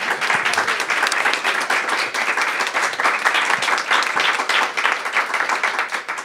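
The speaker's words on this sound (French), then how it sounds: "Je pense qu'on peut les applaudir." An audience at a panel discussion on ecology and education in Québec gives the panelists sustained, dense applause, loud and even from start to finish.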